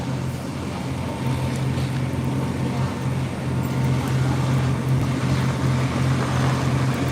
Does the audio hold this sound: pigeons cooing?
no